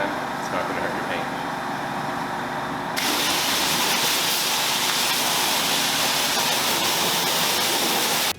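A pressure washer rinsing a car, a loud continuous hiss of spraying water, rougher and more forceful after a few seconds as the jet hits the bodywork, then stopping abruptly.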